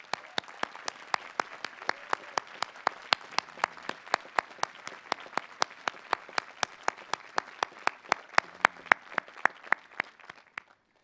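At a college commencement ceremony, audience applause for faculty and staff comes through as an even series of sharp, regularly spaced claps that carry on for about eleven seconds and stop at the end, with no voices.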